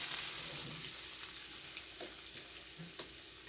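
Vegetables fry in melted butter in a pan, giving a steady close sizzle with occasional sharp pops and crackles, and no one speaks.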